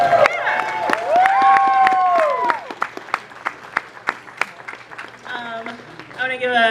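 Applause from an audience at a furry convention's closing ceremony: scattered claps and sharp hand slaps come through under ongoing talk and swooping vocal sounds, with several cheers and whoops rising near the end.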